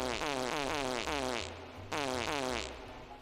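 A cartoonish fart sound effect triggered by a stream alert: two long, buzzy, wobbling blasts in quick succession, loud and close, with no talking.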